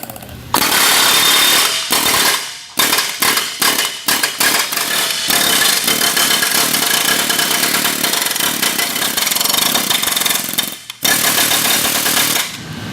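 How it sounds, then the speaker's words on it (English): An air hammer pounds a V-twin racer air intake during vibration testing, a loud, rapid, continuous pneumatic hammering broken by several short pauses and bursts, close and harsh. "we're going to do vibration testing on it with an air hammer"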